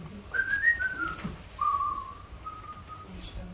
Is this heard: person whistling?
yes